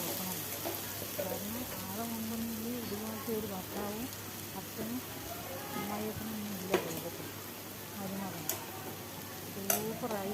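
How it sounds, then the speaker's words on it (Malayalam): Powdered chapati upma is stirred in a pan, a close, continuous scraping and rustling of a spoon against the pan under a soft sizzle, with a few sharp clinks near the end and no voice. "നമുക്ക് നല്ലപോലെ ഇളക്കി മിക്സ് ചെയ്ത് കൊടുക്കാം"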